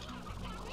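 A brief, soft clucking from stony hens in the video game Slime Rancher, a single short burst of fowl-like calls.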